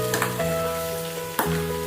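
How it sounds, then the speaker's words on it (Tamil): Ivy gourd frying in oil, producing a dense, steady sizzle up close, with a couple of sharp clatters as a utensil knocks the pan. "எண்ணெய் கோவக்காய் மட்டும் போட்டு."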